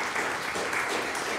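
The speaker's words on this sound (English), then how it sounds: "But yeah, you can applaud." Church congregation at a Sunday worship service applauds in a dense, steady wash of clapping from many hands, sustained evenly for the whole moment.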